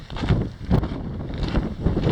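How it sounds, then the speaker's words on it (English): Gusty canyon wind buffeting the microphone, a low rumbling roar that swells and dips in waves with no voices. "It's a little windy today"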